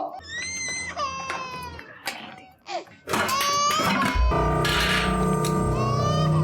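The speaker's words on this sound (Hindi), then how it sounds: "बच्चा रो रही है" A baby cries in a household scene in a TV crime drama, with rising and falling wails that break off and return louder and more sustained, joined by other sounds in the room.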